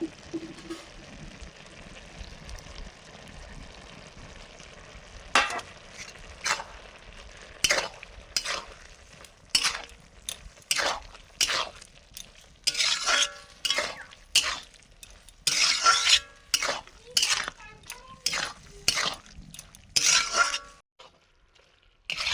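Malabar spinach seeds cook with prawns in a pan, with a low sizzle under repeated scraping stirring strokes that come in rhythmic bursts and grow busier before stopping near the end.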